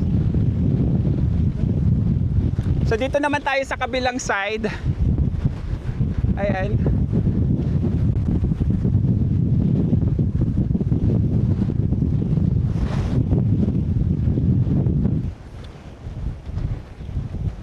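Strong wind on Fortune Island, Nasugbu, Batangas, Philippines, roars and buffets the microphone almost nonstop, with a person speaking briefly over it before it suddenly drops near the end.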